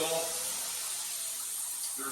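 Water streams from a rain shower head in a low-pressure setup, making a steady, full hiss of spray that holds evenly throughout, with a brief faint voice near the start.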